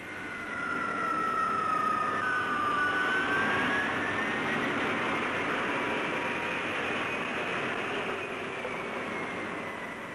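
A carrier jet lands on the deck of the aircraft carrier Clemenceau, its loud, steady engine roar filling the whole stretch with a faint rising whine.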